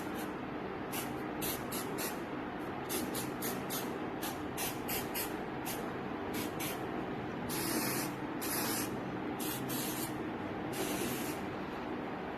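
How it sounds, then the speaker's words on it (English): Ustraa helmet spray hisses from an aerosol can into a helmet in a rapid series of short bursts, some longer, close up and with no voices. "So this is a spray. Okay, it's the Ustraa helmet spray."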